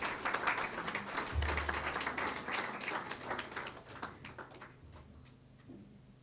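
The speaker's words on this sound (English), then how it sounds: "Can we give them another round of applause," Audience applause at a Diwali celebration, a moderate burst of scattered clapping that thins out and fades toward the end, with a brief low thump early on.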